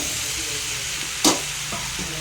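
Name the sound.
tomatoes frying in oil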